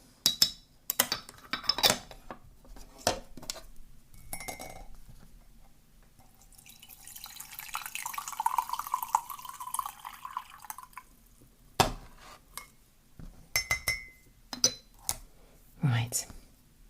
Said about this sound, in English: I think I'm going to need some green tea though, because this has been brewing for a while. So let's give this a stir